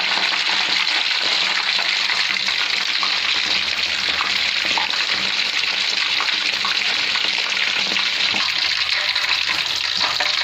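Fish fries steadily in groundnut oil in a pan, a dense, loud, continuous sizzle and crackle that holds evenly throughout without any voices.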